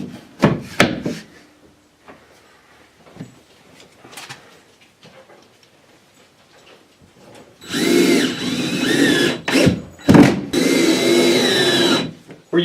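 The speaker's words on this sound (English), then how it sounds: "I'm going to screw into this board, and on this side into this board, and we'll have our patch in" A power drill drives 1 1/4 inch drywall screws through a drywall patch into wood backing boards, with short bursts of whirring early and a longer loud run near the end, separated by quiet handling noises.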